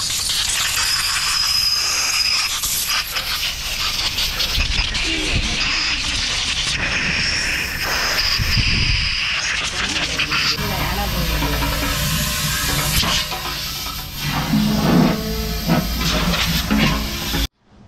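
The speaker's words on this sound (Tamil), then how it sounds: "இப்போ அதில் ஏர் அடிக்கிறதுக்கு தான் வந்திருக்கோம்" Compressed air blasting through a motorcycle throttle body during a full service, a loud continuous hiss with shifting bursts and gusts, running steadily close by until it cuts off abruptly at the end.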